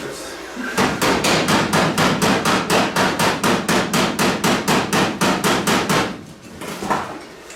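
A small ball peen hammer strikes metal on a 1970 Pontiac GTO floor in about twenty fast, even, ringing blows, loud and close, then stops and a couple of softer taps follow.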